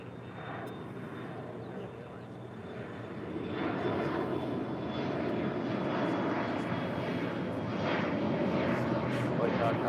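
A SkyWest regional airliner takes off from runway 25 right at LAX, giving a broad, steady engine roar that swells and stays loud, with a voice talking over it.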